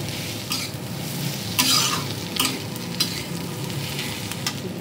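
Pasta seasoned with black pepper powder is stirred in a pan over a low gas flame, giving a soft continuous sizzle with occasional scraping and clinking of the utensil against the pan.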